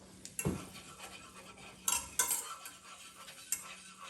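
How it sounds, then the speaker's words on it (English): A utensil stirs a butter and flour roux in a pan over low heat, soft scraping strokes punctuated by a few light metallic clinks against the pan, quiet and close. "stir for about 30 seconds, making sure that the heat is on low"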